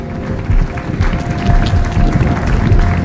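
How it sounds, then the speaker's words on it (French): An audience at an entrepreneurs' coaching event applauds, a loud, close, sustained patter of many hands clapping that swells slightly over the few seconds, with some crowd murmur beneath. "je vous demande s'il vous plaît d'applaudir Amine"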